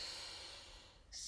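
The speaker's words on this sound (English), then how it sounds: "So breathing in through the nose." A single slow inhale through the nose, soft and close, during a calm breathing exercise, with a faint hiss trailing at the end.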